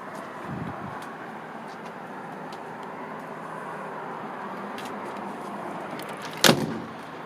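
A door on a 1932 Ford Tudor sedan shuts with one sharp, solid thunk near the end, following a long stretch of steady low background noise and a faint earlier rattle.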